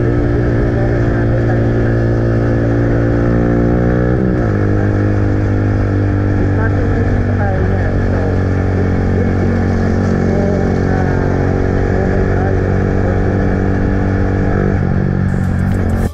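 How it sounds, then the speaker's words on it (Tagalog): Motorcycle engine running through an open muffler exhaust, a loud, close, continuous rumbling drone that drops in pitch as the revs ease off and then holds a steady idle-like growl. "mas nangingibabaw yung tunog ng tambucho natin"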